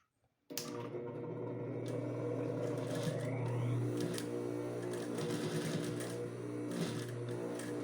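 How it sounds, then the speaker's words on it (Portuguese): A sewing machine stitches a seam on a blazer pocket, starting abruptly after a moment of quiet and then running as a steady, fast, close mechanical whir with a constant rhythmic hum and light clatter. "eu vou passar a costura aqui em cima, ó. Em cima daquela outra costurinha que eu já tinha passado."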